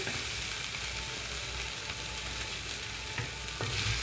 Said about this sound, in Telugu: ఇలా ఉన్న పంట కింద కసకసామంటూ ఉంటుందండి